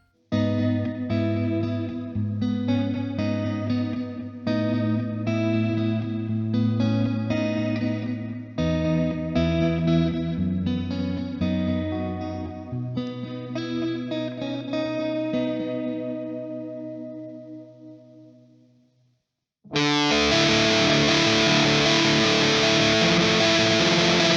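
Heavily distorted Mooer GTRS electric guitar chords ring out with a wavering chorus-like modulation shimmer, fading into a sustained note before a dense, fuzzy burst of tone.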